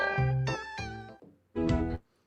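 Dramatic, drawn-out cat meows playing from a video: three long wailing calls in quick succession, a brief pause, then a fourth, loud and close with no talk over them.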